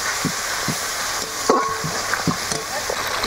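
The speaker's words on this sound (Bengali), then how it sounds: "এবার ভালো করে মিশিয়ে নেব।" A spoon stirs spices, turmeric and Kashmiri chili powder, in a sizzling pan, with steady frying hiss and a few soft scrapes and taps against the pan.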